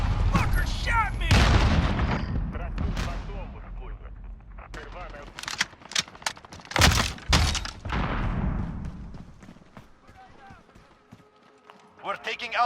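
Gunfire in the Call of Duty Modern Warfare beta on PS4, with bursts of shots and booms coming in loud clusters mixed with game sounds, while a player talks over much of it.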